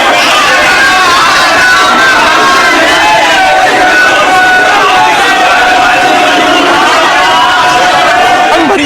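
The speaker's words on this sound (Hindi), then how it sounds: "हर हर महादेव के नारों से काशी गूंजता है।" A large crowd of devotees in Kashi chants and shouts during Holi festivities, a loud continuous roar of massed voices close to the listener.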